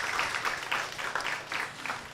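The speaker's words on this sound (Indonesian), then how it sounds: "Boleh saya minta tepuk tangannya dong untuk narasumber yang sudah hadir." A studio audience at a school talk-show event applauds the guest speakers, a dense, continuous patter of hand claps that swells in waves and carries on without speech.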